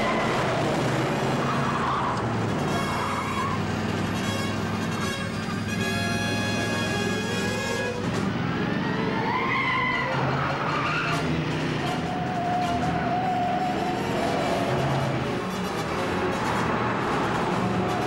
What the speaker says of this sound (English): Four cars under observation now passing this checkpoint. Lead cars, Plymouth station wagon.